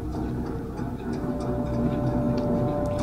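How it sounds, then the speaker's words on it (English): Fans hum steadily inside a museum in a video game, a low constant drone with a faint tonal whine and small clicks. "I see nothing but fans. That's where their noise is coming from."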